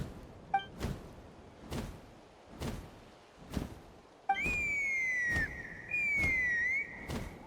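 Whistling starts midway in Genshin Impact, a long sustained tone that bends and slides in pitch, over a regular pattern of soft whooshing pulses.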